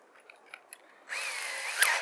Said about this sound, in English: this is our 1/2 inch, 3/8 hole saw that we're going to use to cut the clearance holes for the 1032 screws.